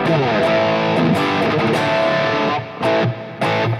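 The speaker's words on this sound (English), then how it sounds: "there is a lot of reverb, which is nice, plate reverb" Distorted electric guitar chords in a modern tone through a Line 6 Helix with plate reverb ring out with a wide, shimmering reverb tail, loud and continuous, with a couple of brief dips near the end.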